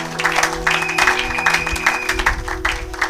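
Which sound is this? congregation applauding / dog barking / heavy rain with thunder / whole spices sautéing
congregation applauding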